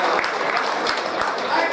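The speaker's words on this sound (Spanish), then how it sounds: "Fuerte el aplauso para la reina saliente." A crowd applauds the outgoing festival queen at the 2016 patron-saint fiestas in Uluazapa, producing dense, steady clapping that holds at an even level throughout.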